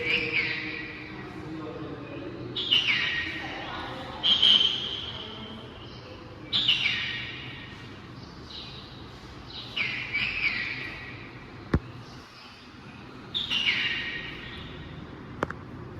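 A recorded Indian roller call plays through a small speaker at a wildlife sanctuary in Kurnool, Andhra Pradesh: harsh, raspy cries repeating every couple of seconds, with soft clicks between.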